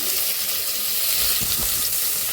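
Bay leaf, cardamom and other whole spices spluttering in hot oil for a mutton paaya curry, a steady close sizzle with a few sharper pops near the end.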